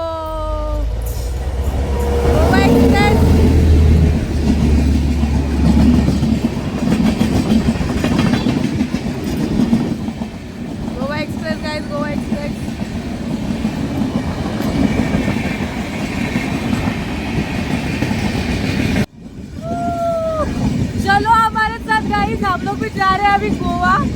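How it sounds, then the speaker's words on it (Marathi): A Goa-bound train rumbles past close by with a steady low roar and rhythmic rail clatter, some voices and chatter mixed in, with high squeals near the end. "सो गाईज गोवा ट्रेन आलेली आहे"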